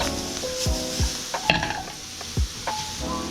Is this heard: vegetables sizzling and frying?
yes